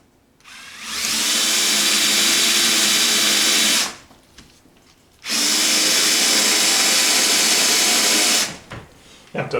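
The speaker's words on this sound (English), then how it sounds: "let's drill those all the way through" A power drill with a 7/64-inch bit whines steadily for about three seconds while drilling holes through a frame, stops, then runs again for another three seconds, loud and close, with brief quiet between bursts.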